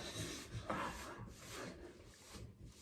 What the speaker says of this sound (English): Just rubbing those edges down.